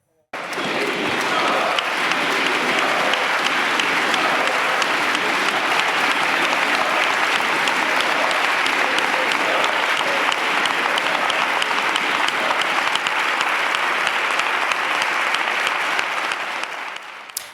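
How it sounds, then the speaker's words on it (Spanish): Deputies of the PSOE and Podemos in the Spanish parliament give a long, intense standing ovation, dense sustained applause filling the chamber at steady loudness for nearly the whole stretch before tapering off at the end. "fue homenajeado con una intensa ovación por los diputados del PSOE y de Podemos"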